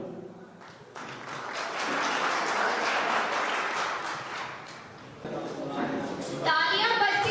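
An audience at a university PhD students' presentation applauds in sustained, dense clapping that swells and continues for several seconds, with a voice briefly heard over it near the end.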